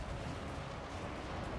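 Dense, continuous rumble of cannon fire and battle noise in Total War: Warhammer III, a steady low roar without distinct separate blasts, fairly quiet throughout.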